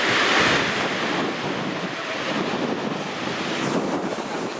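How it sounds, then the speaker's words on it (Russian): Strong, gusty hurricane wind from a cyclone in Gelendzhik roaring and buffeting the microphone, with a broad rushing noise that barely lets up. "А то мою фуражку, кепочку сносит ветер, ребята."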